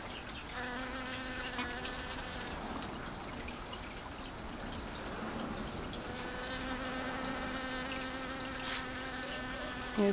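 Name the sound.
bee collecting corn pollen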